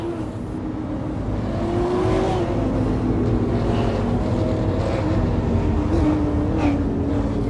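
Race cars lap the track at Lucas Oil in a MiRL race, including the number 61 Dale Shaw Race Cars machine: a continuous loud engine drone with rising and falling pitch as cars pass, blended with wind noise.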